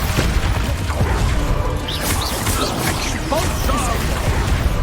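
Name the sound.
Expulso spell blast in Hogwarts Legacy video game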